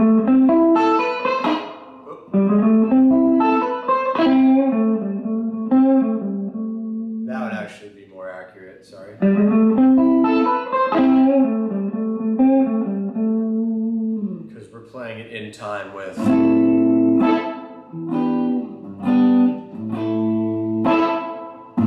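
Melodic electric guitar call-and-response licks in the minor pentatonic trade back and forth, a short phrase answered by another, with slight distortion and reverb, played alone at moderate volume.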